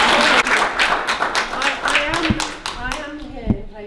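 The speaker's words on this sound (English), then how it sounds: "So can we have a round of applause for Juliet?" A small audience gives a round of applause for a speaker at an evening event, dense clapping that thins out and fades over a few seconds, with a couple of louder close claps near the end.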